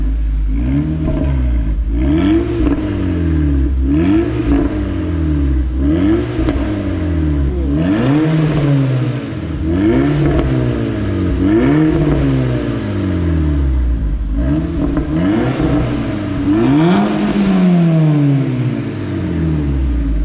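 A Volkswagen Golf GTI Edition 30 fitted with an APR exhaust is revved repeatedly, engine pitch climbing and falling in a dozen or so smooth blips, loud and close with no voices.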